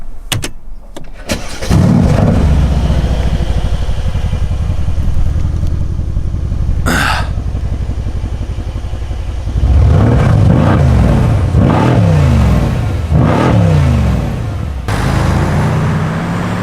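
A Mercedes C63 AMG coupe fires up with a loud starter crank and roaring catch, settles into a deep burbling idle, then blips through several sharp revs, close and without talk.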